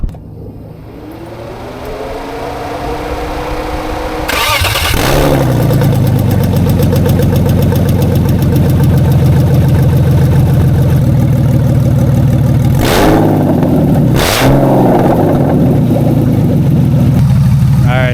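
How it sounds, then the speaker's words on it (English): A BMW E36 with open exhaust headers cold-starts after a few quiet seconds, then settles into a loud, raw, steady idle with a rough, rapid pulsing and a couple of sharp revs or pops near the end. "Let's go ahead and do a open header cold startup."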